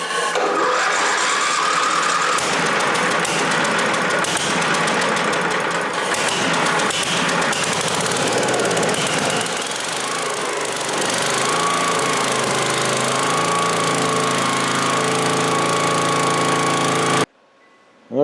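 An 8000-watt generator that had been flooded, test-started on carburetor cleaner, runs as a loud, rough, continuous engine drone with some unsteady pitch, then cuts off abruptly near the end.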